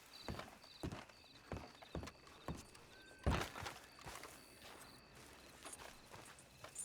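Horse hooves clip-clop at a steady walking rhythm in a video game, a string of sharp near hoofbeats with one heavier thud midway, fading slightly as the horse moves off over soft ambient background.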